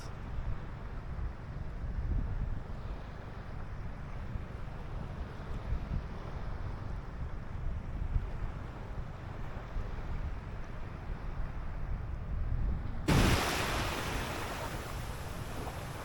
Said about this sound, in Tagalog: ramdam ko na yung hangin